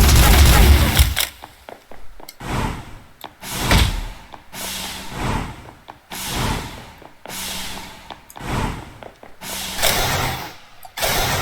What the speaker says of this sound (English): I can switch to also a pistol.